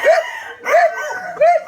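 A Boston Roundhead gamefowl rooster crows three times in close, loud succession in a farm coop, each call a short harsh cry with only brief gaps between them.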